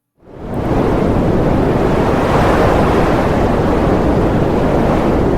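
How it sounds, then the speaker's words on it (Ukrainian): Wind sweeps through the trees of a forest, rising quickly from silence into a loud, steady, broadband roar that holds without pause, close and unbroken, with no voices. "Шум дерев."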